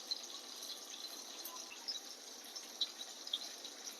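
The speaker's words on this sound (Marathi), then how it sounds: "थोडंसं पाणी टाकू शकतो अजून" Water poured into a pot of Konkan-style fish curry with tamarind pulp, a faint steady trickle with a few small splashes and clinks, quiet and close.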